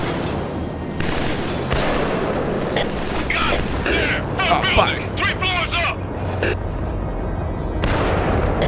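Sci-fi combat in the video game Killzone 3: constant gunfire and booming blasts roll on throughout, with intermittent shouted speech over the steady battle noise.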